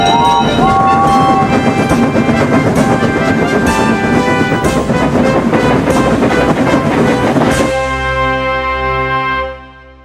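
A busy rail scene with rhythmic steam-engine chugging and clattering, layered with whistle-like tones, that thins out and fades away near the end.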